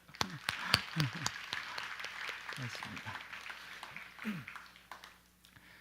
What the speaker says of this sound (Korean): 우리 축복의 박수 한번 해줄까요?